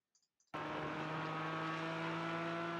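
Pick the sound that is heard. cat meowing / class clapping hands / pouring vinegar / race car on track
race car on track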